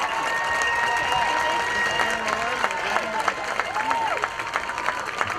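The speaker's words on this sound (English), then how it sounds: "Let's have another huge round of applause for all 55 outstanding marching Firebird seniors" Crowd applause and cheering at a high school football game for 55 marching band seniors, loud and sustained from the stands with scattered shouts and whistles mixed in.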